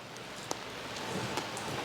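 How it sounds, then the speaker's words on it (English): Steady rain falls outside on a winter day, a continuous soft hiss of drops with a couple of faint closer taps and no voices. "It's freaking raining."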